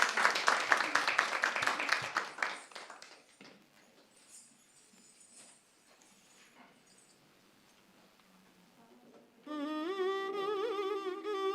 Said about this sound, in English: Please give a nice round of applause.